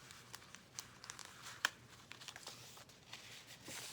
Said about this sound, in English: don't y'all all love the sound of that parchment paper like that?